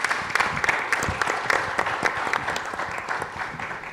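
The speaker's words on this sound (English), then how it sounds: "give me a round of applause to all of our participants on stage here" An audience at an education talk series applauds the participants on stage, a dense crowd clapping with fairly even loudness that eases slightly as it goes on.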